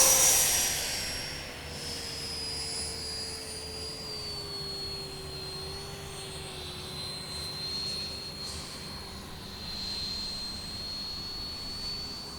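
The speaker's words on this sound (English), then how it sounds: "Here we're going to do some touch and goes with the gear on" An E-Flite Viper model jet flies touch-and-go passes in a crosswind with its gear down, its steady ducted-fan whine rising and falling in pitch as it sweeps past at a moderate distance, with no talk.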